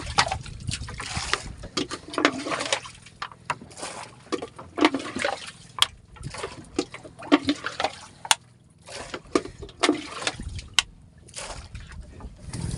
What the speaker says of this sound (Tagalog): Limas muna ng tubig.